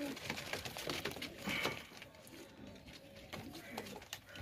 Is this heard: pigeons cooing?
yes